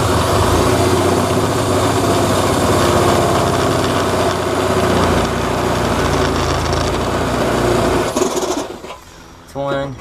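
A power drill bores a hole for a fitting in a workshop on an AE86 surge tank job, a continuous loud whirring grind that runs for about eight seconds before cutting out, followed by a few brief clatters.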